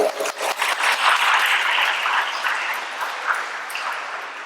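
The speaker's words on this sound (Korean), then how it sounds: "박수 한번 칠까요?" An audience claps together in a dense burst of applause that stays strong, then gradually thins and softens toward the end.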